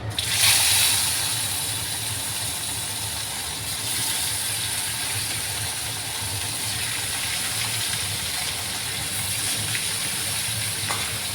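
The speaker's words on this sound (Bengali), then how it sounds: "এই যে তেলটাও গরম হয়ে গেছে, এবার মাছগুলো এক এক করে দিয়ে দিই" Fish pieces are dropped into hot cooking oil, bursting into a loud sizzle at the start and settling into a steady, close, bright frying hiss that continues throughout.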